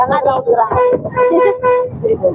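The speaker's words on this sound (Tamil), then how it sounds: "ஃப்ரீ பஸ்லேயே போயிட்டுருக்கோம்" A free public bus on a route toward Sholinghur sounds several short, loud horn toots in rapid bursts, with voices talking close by between and over them.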